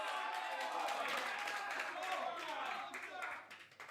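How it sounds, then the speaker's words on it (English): An audience at a charity football match claps in steady, dense applause that fades toward the end, with a voice speaking over it. "Round of applause, yes."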